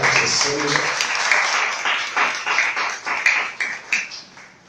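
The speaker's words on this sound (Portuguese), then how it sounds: "Se não se aplaudir ao Senhor pela vida dele" Church congregation in a Portuguese-speaking worship service clapping, a bright burst of applause that thins into scattered individual claps, with voices heard at the start.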